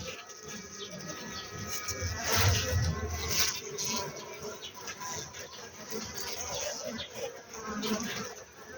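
Honeybees buzzing around beehive frames full of honey during spring hive work, a dense steady drone close by, with faint voices in the background.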